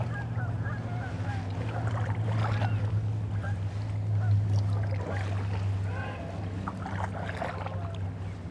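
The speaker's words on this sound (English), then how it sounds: "I'm gonna get away from these geese because they probably don't appreciate me being here" Geese honking near the water of the Arthur Kill, with repeated calls over a steady low engine drone from a small boat, fairly close and continuous.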